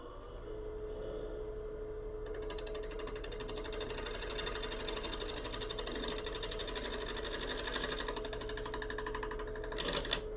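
A 5/8 inch bowl gouge cuts a winged bowl on a woodturning lathe, making a steady, rapid, rhythmic chatter over a constant hum, quiet and without talk.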